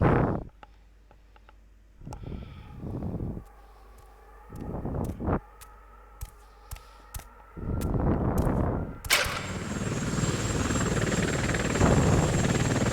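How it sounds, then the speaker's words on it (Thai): In a video game, a run of sharp, isolated gunshots cracks out in irregular bursts over a hollow, low rumble, then a helicopter's dense whirring roar takes over loudly and continuously for the final few seconds. "มีเฮลิคอปเตอร์ด้วย เฮลิคอปเตอร์เฮลิคอปเตอร์"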